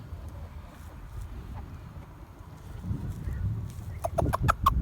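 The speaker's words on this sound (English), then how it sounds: "Really pretty roosters" Quiet farmyard murmurs, then a quick burst of close, loud clucks from Silkie-like chickens and roosters comes in rapid succession near the end.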